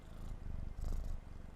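A small kitten purrs steadily and close, a soft low rumbling rhythm that swells slightly in the middle, heard alone with no talking, recorded in a calm indoor studio setting.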